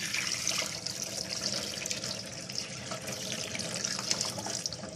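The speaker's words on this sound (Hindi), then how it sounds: "अब इस पर हम ठंडा पानी डाल देंगे।" Cold tap water pours steadily over drained spaghetti in a kitchen colander, a continuous rushing splash with small spatters, close and fairly loud throughout.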